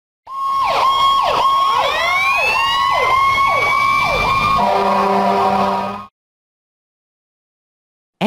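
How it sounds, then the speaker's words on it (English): A loud wailing siren sweeps up and down repeatedly, then shifts to a steady blaring horn tone before cutting off abruptly. "Fire engine."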